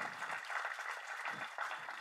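An audience at a Tamil film event claps, a fairly faint, continuous patter of applause heard from a distance throughout.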